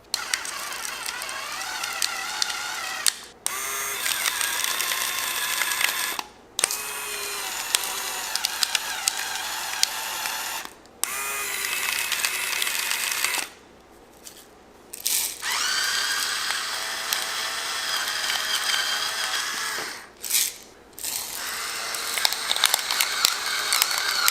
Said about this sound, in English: let's jump into performance and take a look at how well each of these two do grinding salt and pepper